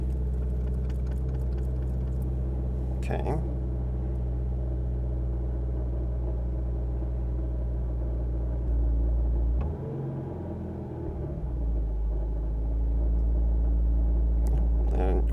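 A Subaru WRX STI engine idles with a low, steady rumble, briefly interrupted midway as the sound dips and shifts before the hum resumes; a voice speaks once at the start.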